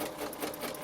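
A sewing machine stitches along a template for a pillow design, giving a brief, close burst of quick mechanical whirring under a second long.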